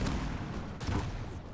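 Rockets and grenades go off in a Quake-style arena shooter. Brief, dense bursts of explosions and weapon fire come in a chaotic, overlapping rush at moderate loudness, with no voices.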